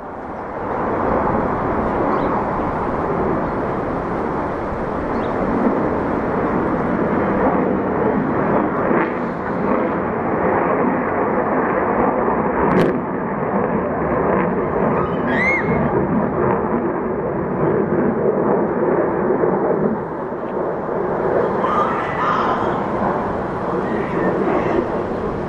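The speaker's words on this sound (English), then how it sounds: "Here comes a fighter jet." A fighter jet passes over Arlington, Virginia, making a sustained, loud, rumbling roar. The sound fills more than twenty seconds with no talking.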